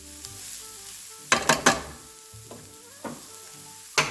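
Vegetables fry in a pan seasoned with minced garlic, cumin and garlic powder, giving a steady close sizzle broken by a few louder bursts as the hash is stirred, with no talking.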